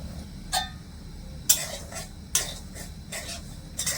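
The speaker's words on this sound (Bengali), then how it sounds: "তো এবার আমি শুকনো কড়াই এই সুজিটা না একটু ভেজে নেব" Semolina is dry-roasted in a wok, with a spatula scraping across the metal in about six separate strokes over a quiet, faintly hissing background.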